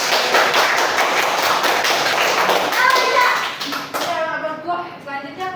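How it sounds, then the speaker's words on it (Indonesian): A classroom of students claps together in a dense burst of applause that thins out toward the end, with children's voices chattering over and after it. "silakan beri tepuk tangan untuk"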